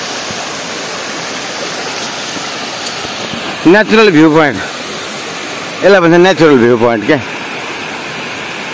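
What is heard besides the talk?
flowing water at a natural viewpoint waterfall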